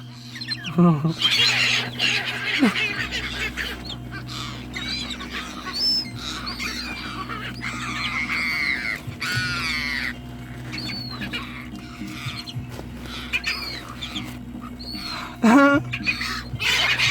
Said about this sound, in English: if I take one bite and throw it to the seagull, Stephen.